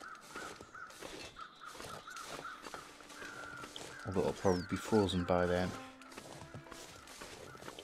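Crows caw repeatedly in a wintry outdoor scene in The Long Dark, with loud, close harsh calls clustered around the middle while someone talks over and between them.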